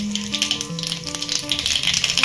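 Nigella seeds tempering in hot oil after fried potatoes, with a little sugar added, give a steady crackling sizzle with quick spitting pops, close and continuous.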